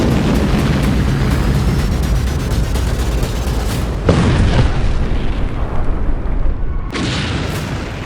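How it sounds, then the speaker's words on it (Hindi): A volcanic eruption: deep, roaring explosive booms rumble continuously, with sudden louder bursts breaking through a dense wall of low noise. "महाविनाश का महाविस्फोट।"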